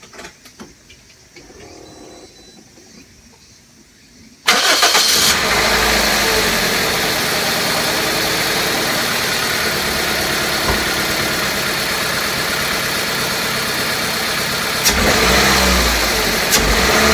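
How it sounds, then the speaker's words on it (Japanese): A Toyota Wish engine, just fitted with new spark plugs, cranks and catches after a quiet stretch with a few tools, then runs loud and steady close by with a slightly uneven idle and a brief rise in revs near the end. "ちょっと、試しにエンジンかけてみまーす。"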